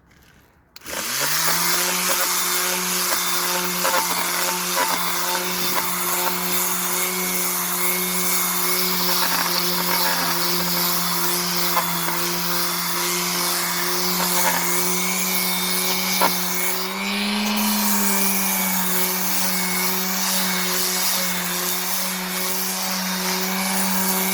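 A power tool whines steadily while removing surface rust from a railplate, a constant high buzzing drone held for the whole stretch with a brief dip in pitch near the end.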